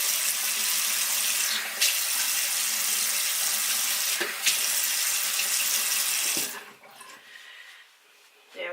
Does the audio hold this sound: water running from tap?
yes